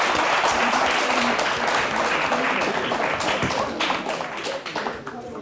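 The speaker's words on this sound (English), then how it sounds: "Let us give them a big clap." Audience clapping at a science quiz show, a dense burst of applause that stays loud and steady, then thins into scattered claps as it fades.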